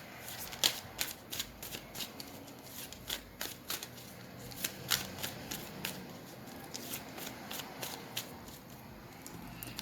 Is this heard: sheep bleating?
no